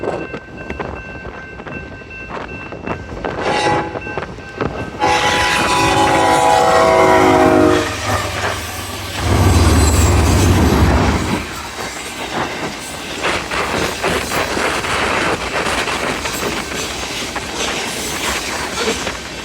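A work train hauling track panels and ballast rolls past in the Columbia River Gorge, its horn blaring and wheels clacking and squealing, while strong wind buffets loudly throughout.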